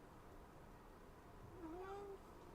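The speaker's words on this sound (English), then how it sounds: "Cat wants to chime in right now." A cat meows once indoors, a short rising and falling call heard fairly close over a low background hum.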